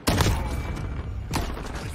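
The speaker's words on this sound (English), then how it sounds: "the whizzing and bullets going past me" Bullets whiz past and impacts crack in a military shooter match, a loud burst opening the moment and another sharp crack near the end over a dense rumble of gunfire.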